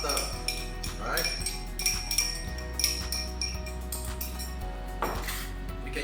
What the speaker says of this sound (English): We'll put in everything in the mixing bowl, including the warm melted butter.